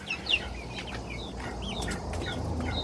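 Chickens in a backyard coop give a few scattered clucks and chirpy calls over a steady murmur of rustling and background noise, fairly close by, with no voices.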